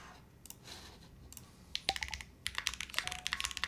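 Typing test on an Ace 6.5 prototype mechanical keyboard, sparse clicks at first, then rapid bursts of crisp, close keystrokes growing denser toward the end.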